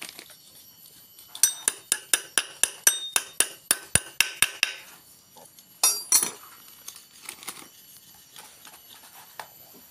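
Installing a clutch bearing in a Honda Revo motorcycle engine, a fast run of about fifteen sharp metallic taps, then a few scattered clinks and knocks, close and fairly quiet.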